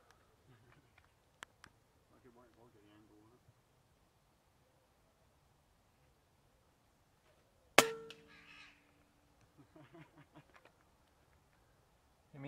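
Crows caw during an airgun crow shoot beside a rabbit bait hung in a tree, a few harsh calls spaced over several seconds, with a sharp loud crack midway and quiet field air between.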